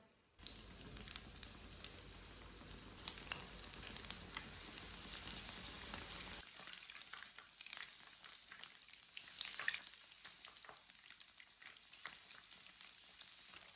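Battered pocket sandwiches fry in oil over low heat, a dense, steady crackling sizzle with scattered pops, loud and close at first, then settling into a lighter, even bubbling hiss with no one talking.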